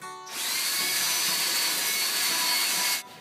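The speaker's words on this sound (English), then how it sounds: "I'm grinding this down and dishing that out with 50 grit" A 50 grit Roloc disc on a power tool grinds down a plastic bumper in one loud, continuous high whine lasting about three seconds before cutting off.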